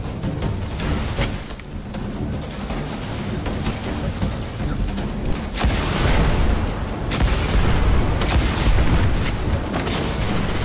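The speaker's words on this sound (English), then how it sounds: "I'll show you what this cannon does." Cannon fire in the video game Destiny, a dense, loud stream of booming blasts and explosive rumble filling the whole stretch with no pauses.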